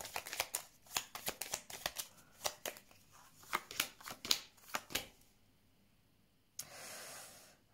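Tarot cards being shuffled and laid down one after another in a rapid series of crisp riffling snaps, followed by a pause and a soft brushing swish near the end; quiet room, no talking.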